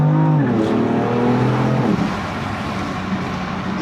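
BMW M4 accelerating hard in manual: loud rising engine note with climbing harmonics, a sharp shift around two seconds, then a deeper, rougher exhaust roar continuing alone without talk.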